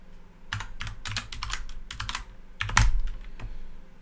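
An integer typed on a computer keyboard: a quick, close run of light key clicks, then a brief pause and a louder, heavier keystroke like Enter, followed by a few more taps, with no talk.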